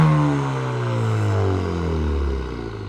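A Ford Focus RS engine revs loudly and close up, a thick, droning roar whose pitch slides steadily downward as the revs drop away over about three seconds.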